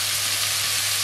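Chicken and garlic paste sautéing in a pan for chicken tikka pizza, giving a loud, continuous close-up sizzle with a steady low hum beneath and no voices.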